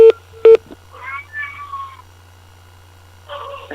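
A cat meows several times over a telephone line, the calls clear and close, mixed with a few short dialing beeps at the start and a faint steady hum beneath.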